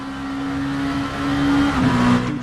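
A race car in Assetto Corsa runs a lap, its engine droning loud and close with a steady high tone that climbs, then drops sharply on a gear change or lift before pulling again.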